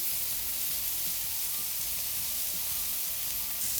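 A seasoned burger, just flipped, sizzles loudly on a flat top griddle: a steady, close, unbroken hiss of frying fat with no voices over it.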